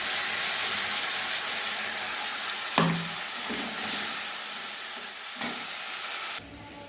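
Ground spice paste hitting hot oil after a dried red chilli tempering, sizzling loudly and steadily throughout with a few brief stirring scrapes, close up and alone.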